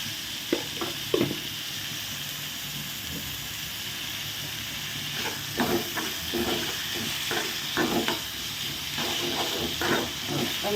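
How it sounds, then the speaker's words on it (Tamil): Onions sautéing in a pan for a bread-based evening snack, a steady broadband sizzle with repeated soft scraping stirs at close range, no voices. "வெங்காயம் வந்து நல்லா வதங்கட்டும் அது வரைக்கும் நம்ம வெயிட் பண்ணுவோம்"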